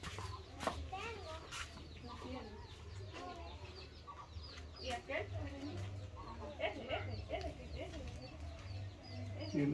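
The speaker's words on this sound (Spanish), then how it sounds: "Tiene patos y tiene gallinas." Chickens cluck in a yard kept with ducks, a faint, busy mix of short calls under distant background chatter and outdoor noise.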